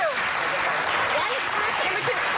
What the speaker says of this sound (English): they can clap if they want to